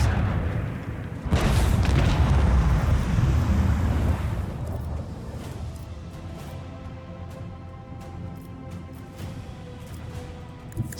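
Macro cannons firing in Warhammer 40k: Rogue Trader, a deep booming barrage that erupts suddenly and rumbles for a few seconds before fading into a sustained low drone and ship ambience.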